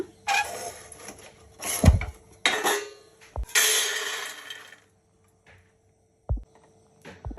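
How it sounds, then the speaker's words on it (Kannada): Roasted peanuts are poured onto a plate in several short, dry rattling bursts. A few brief knocks and quiet gaps come between them. The sound is fairly soft and close, with no speech. "ಕಡಲೆಕಾಯಿ ಬೀಜ ಹುರಿದಿದ್ದಾಗಿದೆ ಒಂದು ತಟ್ಟೆ ಒಳಗೆ ಬಗ್ಗಿಸ್ಕೊಳ್ಳೋಣ"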